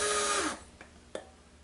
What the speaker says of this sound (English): I'm just going to take a drill